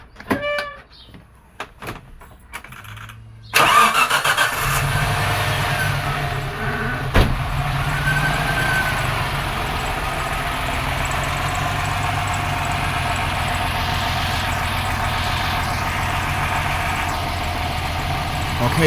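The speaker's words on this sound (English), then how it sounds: "Let's start the car and continue." A 1995 Suzuki Escudo engine cranks and catches with a sudden burst, then settles into a steady, close idle hum that continues unchanged.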